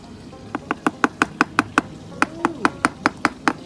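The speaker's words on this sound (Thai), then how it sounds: "ตันนี้ต้องเคาะออกนะครับมีซีนอยู่นะฮะ เราต้อง เคาะดีๆครับ" Someone knocks on a clogged household water pipe, a run of sharp, evenly spaced raps, about a dozen in quick rhythm with a brief gap midway, while a person talks.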